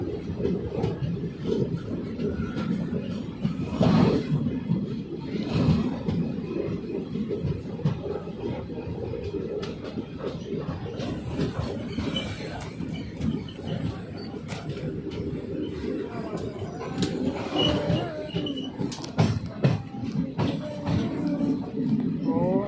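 The ICF Seshadri Express runs between Tadepalligudem and Rajahmundry, a steady rumbling roar of the moving coach heard from inside, with occasional clattering and knocks rising and falling over about twenty seconds, some faint voices in the background.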